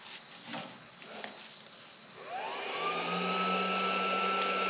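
A Bolt Buster induction heater heating a bolt, its steady electronic whine and hum rising in pitch and loudness partway through and then holding constant, close and alone.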